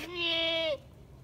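A single goat lets out one clear, drawn-out bleat of under a second, close and fairly loud, ending abruptly before a quiet farmyard background.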